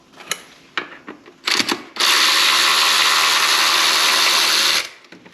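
Ratchet on the bolts of the idle air control valve on a BMW M54 engine: a few short clicking bursts, then one long continuous ratcheting run for about three seconds, close and loud, then quiet handling.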